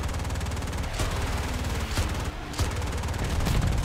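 Continuous gunfire in the War Thunder video game, a dense, steady stream of rapid shots with a few louder bursts, filling the whole stretch with no pause.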